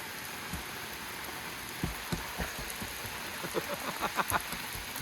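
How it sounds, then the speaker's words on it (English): Rain falls steadily on a surface, with scattered heavier drops plopping nearby, becoming more frequent toward the end. "Go touch the rain."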